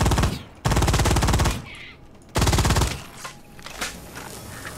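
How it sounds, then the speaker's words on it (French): Submachine gun fire in the shooter game Firefall: two loud, rapid automatic bursts close up, each about a second long, separated by a short gap and followed by fainter game sounds. "Espèce de petit pistolet mitrailleur, bah pistolet mitrailleur, une petite euh, mitraillette."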